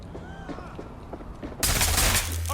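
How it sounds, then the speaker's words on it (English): Gunfire erupts in the video game Watch Dogs Legion, a sudden loud, dense burst of shots over a rumbling background of game noise. "I'm taking fire!"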